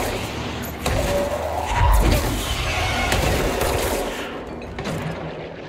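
Enemy gunfire in the game Control, a burst of rapid shots and impacts lasting several seconds over a dense rumbling backdrop of combat effects, loud and close.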